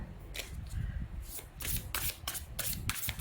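A deck of tarot cards is shuffled during a reading, producing several close, crisp riffling bursts in an uneven rhythm, separated by short pauses with soft handling rustle.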